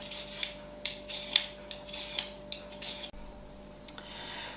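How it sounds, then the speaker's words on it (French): Potatoes being peeled with a 2-in-1 peeler, a series of soft, quick scraping rasps repeating at a steady rhythm, close and fairly quiet, with no talking. "je vais utiliser mon éplucheur 2 en 1 pour pouvoir en fait les éplucher"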